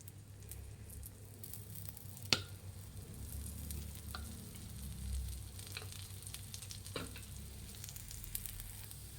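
Oil hisses and sizzles steadily in a hot pan while masala dosa cooks, with a few brief clicks and stirring touches over the continuous frying sound and no talking.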